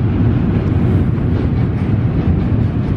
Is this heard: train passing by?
yes